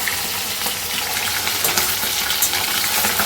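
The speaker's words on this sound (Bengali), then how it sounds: "আজকে তেলাপিয়া মাছ নিয়ে এসছে এই যে ভাজা করছি" Tilapia fries loudly in hot oil, a dense crackling sizzle with bursts of spattering, close by and continuous throughout.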